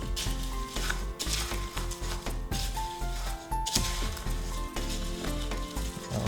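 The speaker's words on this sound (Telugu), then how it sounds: "కప్పు ఆనియన్స్ వేసిన తర్వాత మళ్ళీ మిక్స్ చేస్తున్నా" Chopped onions being tossed into bhel puri chaat mix, a dense continuous crackle and rustle of crunchy puffed rice with repeated stirring strokes, close and steady throughout, no talking.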